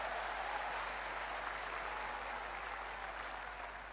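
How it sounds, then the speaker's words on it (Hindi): A large audience at an Amway event applauds for sponsors, a steady, dense wash of clapping from many hands that holds evenly and fades slightly at the end, with no talk over it. "जोरदार ताली उनके लिए दोस्तों।"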